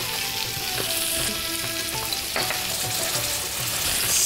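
Garlic and red chili powder fry in a hot pan for a spicy crab curry, giving a steady, loud, close sizzle with a few light stirring scrapes throughout.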